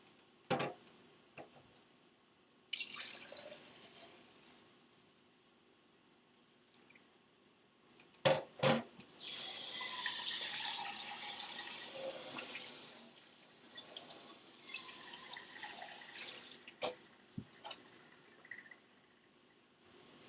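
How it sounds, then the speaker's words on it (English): Water runs into a kitchen sink while a pan is washed out, a broad rushing spell mid-clip framed by clanks, taps and drips, close and fairly quiet. "Sorry, I just washed out the pan."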